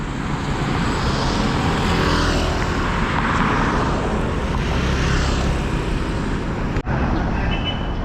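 Fast road traffic rushes past on a street in Pattaya, Thailand, a loud, steady roar of engines and tyres that holds for the whole stretch and dips briefly near the end.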